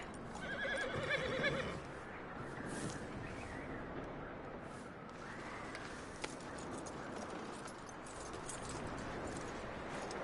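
A horse in Red Dead Redemption 2 whinnies loudly near the start, then its hooves clip-clop steadily under ambient game sound for the rest of the stretch.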